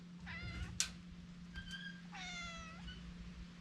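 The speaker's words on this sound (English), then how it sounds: "Was that my cat?" A pet cat meows repeatedly inside a garage, several drawn-out, wavering cries in a row over a steady low mechanical hum, with a sharp knock between the first calls.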